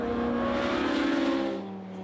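GT race cars, a Ferrari and a Lotus among them, run nose to tail through a corner at Snetterton circuit, with steady loud engine roar that eases slightly toward the end.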